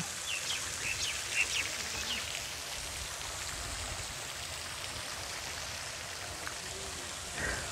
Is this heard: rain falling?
yes